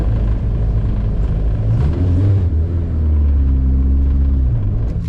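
A K24-swapped turbo Honda Civic on a drag strip pass, a loud sustained engine drone that climbs in pitch through the gears, rumbling and somewhat distant, with no voices.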